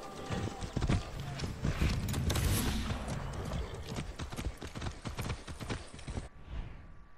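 Horse hooves clip-clop rapidly and steadily in Far Cry 6, loud and close, with a brief whinny-like sound and faint game effects mixed in before the hoofbeats fade near the end.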